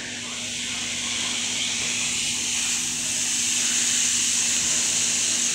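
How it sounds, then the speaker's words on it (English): Seasoned Angus burger patties in a skillet, giving a loud, steady, continuous sizzle and hiss up close that swells slightly over a few seconds, with no talking. "Now it's time to put them into the skillet."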